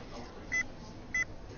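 Two short phone dialing tones sound in quick succession, clear and evenly spaced, over a faint background hum.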